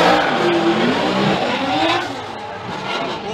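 Formula Drift cars race at Palm Beach, engines roaring and revving loudly as they slide through a corner, with tire noise in the mix under a commentator's voice.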